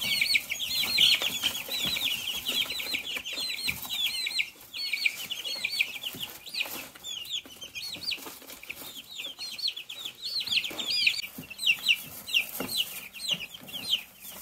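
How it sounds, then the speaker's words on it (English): Meat chickens on a farm cluck and squawk in agitated bursts, many birds calling at once close by, with rustling and wing flaps between the calls. "So meat birds are voracious eaters. And right now they're all panicking."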